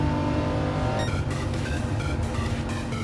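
A race car engine in Gran Turismo Sport hums steadily, then rises sharply into a whining acceleration with climbing gear tones, loud and close, with no talking.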